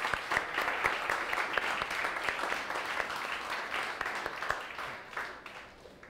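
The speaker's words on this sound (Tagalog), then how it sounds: "Tayo po tayo, palakpakan natin si Lord." A church congregation applauds during a worship service, steady dense clapping with a few sharper, louder claps standing out, sustained for several seconds before thinning slightly at the end.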